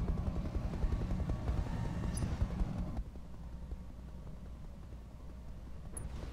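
A cavalry helicopter in the Roguetech battle game gives a steady, dense rotor roar that drops noticeably in level about halfway through and carries on more quietly, with no voices.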